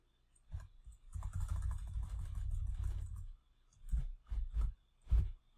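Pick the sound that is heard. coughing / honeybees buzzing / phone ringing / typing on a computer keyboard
typing on a computer keyboard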